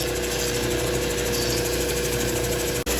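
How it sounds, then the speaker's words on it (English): A Diamond Pacific Genie trim saw cutting a piece of very hard jasper or greenstone, a loud, steady grinding whine that runs without a break and cuts out briefly near the end, with no talking. "trim up this really hard jasper or some kind of greenstone"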